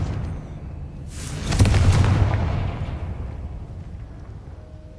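A Confringo fire spell bursts in Hogwarts Legacy: one loud rumbling blast that swells up, then decays into a long fading roar, with no talk over it.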